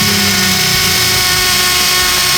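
A Makita DHP490 cordless impact drill bores into a house-type wall with a loud, continuous high whine and rattling hammer buzz, close up and alone.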